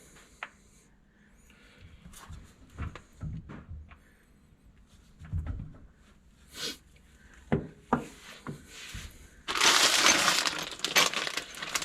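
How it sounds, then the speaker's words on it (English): Bolts in a bag for fitting an adapter flange to a Jeep 8.8 axle driveshaft: scattered light metallic clinks and taps, then a loud, close crinkling rustle of the bag with jingling near the end. "Got our bag of bolts."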